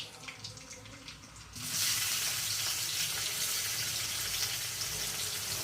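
Cumin seeds dropped into hot oil for a potato and capsicum curry start a sudden loud, steady hiss that fills the pan after a quieter moment and keeps sizzling evenly.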